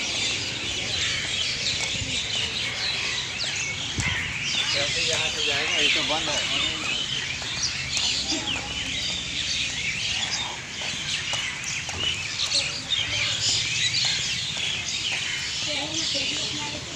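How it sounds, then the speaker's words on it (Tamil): Many birds chirp and call continuously at six in the morning along a green walking route, a dense chorus close around while a person talks over it. "எவ்வளோ பறவைகள் சத்தம் பாருங்கள் காலையிலே வாக்கிங் வந்திருக்கேன்"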